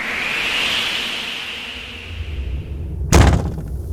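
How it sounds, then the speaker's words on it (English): A whooshing gust of wind sweeps and fades, then a door shuts with a single solid thud, followed by a low lingering rumble. "She closed the door"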